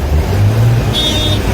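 Traffic jam on the Mumbai-Pune highway near Vadgaon, Maval, with buses, tempos and pickups crowded together: a close, loud engine drone and road rumble, with a short horn toot partway through.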